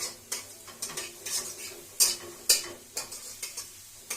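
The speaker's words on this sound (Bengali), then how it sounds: "এভাবে নাড়াতে থাকলে ডিমগুলো ছোট ছোট আকারে ভাজা হবে" A utensil stirs scrambled egg pieces in a hot pan over raised heat for egg tarka, tapping and scraping against the metal in a quick, uneven rhythm of a dozen or so sharp clicks over a faint sizzle.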